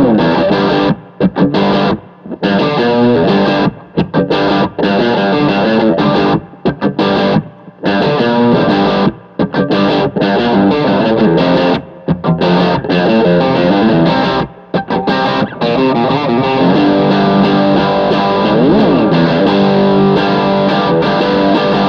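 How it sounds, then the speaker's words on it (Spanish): Electric guitar played through a Dual Dream overdrive pedal set for moderate distortion, strummed chords and riffs with brief gaps between phrases, loud and continuous, no voices. "vamos a hacer una distorsión para hacer un acompañamiento o un riff, una distorsión moderada también"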